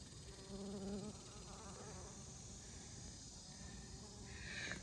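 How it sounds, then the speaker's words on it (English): A bee buzzing close by while it feeds on a flower in a garden, a continuous droning hum with shifting pitch and a few louder swells, heard alone without talk. "That bee right there is so honey drunk."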